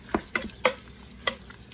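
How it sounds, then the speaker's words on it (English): Ground beef sautéing in a pot on a stove set to 400: a few sharp spatula scrapes and knocks as the meat is broken up, over a faint sizzle. "we're just going to saute this ground beef up and get it nice and crumbled up"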